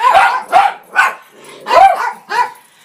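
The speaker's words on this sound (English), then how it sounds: "That and a bunch of barking dogs." Several dogs bark in a ragged series of five loud, close bursts with short gaps between them, and no voices can be heard.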